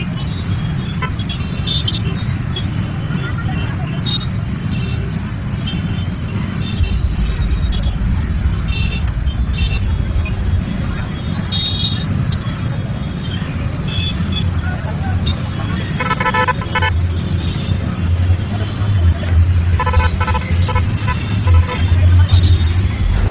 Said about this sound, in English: Heavy traffic is there.